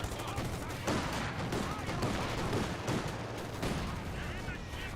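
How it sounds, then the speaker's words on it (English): Dense battlefield gunfire and bursts crackle in Company of Heroes 2, including a rifle grenade, with repeated sharp shots and thumps over a continuous rumble. "Rifle grenade fired. 2-2 firing away."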